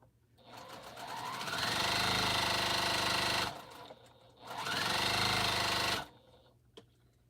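A Bernina sewing machine stitches fabric in two long, steady runs of rapid mechanical whirring, close and loud, with a short quiet gap between them.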